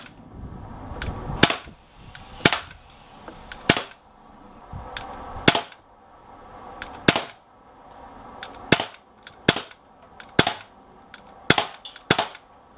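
An Umarex Walther PPQ .177 CO2 pellet pistol fires about a dozen sharp, loud pops at uneven intervals of roughly a second, each followed by a brief clatter, with no talk.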